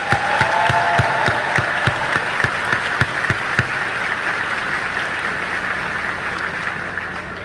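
Applause from an audience honoring someone at a gathering, with dense continuous clapping and a few sharper claps standing out early before the applause eases into a steady wash.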